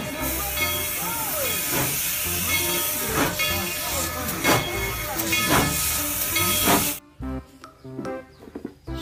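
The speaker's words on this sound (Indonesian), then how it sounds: "ini kereta api Thomas teman-teman" A Thomas the Tank Engine train hisses steam in a long, loud continuous rush with clanking and a whistle-like tone, then cuts to quieter rattling at the end.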